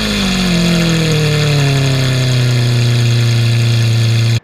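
A car engine runs loudly and close, a steady low drone with a pitch that slowly sinks as the revs settle, ending with an abrupt cut; no voices are heard.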